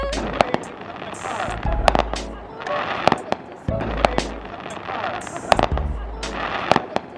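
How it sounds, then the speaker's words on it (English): Fireworks bursting at a Fourth of July celebration, with sharp cracks and booming thuds repeating irregularly over a continuous crackle, loud and close, with people talking faintly underneath. "Tonio, do you like the fireworks?"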